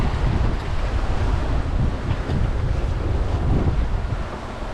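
Strong wind rushes past the microphone aboard a sailboat running square downwind under full main in 15 to 20 knots, with a lumpy sea sloshing beneath in a loud, continuous roar.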